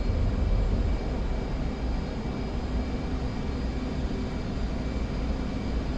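Steady, loud engine roar of an F-15E fighter jet on its takeoff run in DCS World, a dense continuous rushing drone that holds throughout with no talk.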